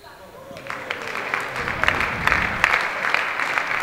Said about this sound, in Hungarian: A beszűrődő taps az a női meccsnek szól.